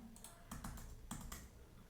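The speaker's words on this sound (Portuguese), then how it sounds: "tô apertando aqui, ó, as teclas" Keys being pressed on a computer keyboard while a terminal program is tested, heard as several quiet, close clicks in small clusters over a low background hum, with no talking.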